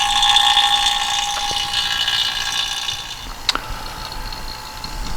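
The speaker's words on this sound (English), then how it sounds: "So that vacuum pump's been pulling on there for about 45 minutes" A vacuum pump pulls down the air conditioning system of a 2007 GMC Acadia, giving a steady mechanical drone with a high whine and two sharp clicks partway through.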